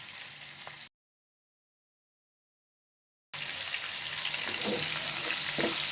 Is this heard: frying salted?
yes